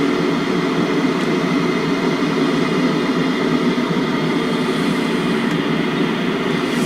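An airliner taxis toward the runway in Flight Simulator X, a steady droning jet engine whine and hum holding constant throughout with no change in pitch or power.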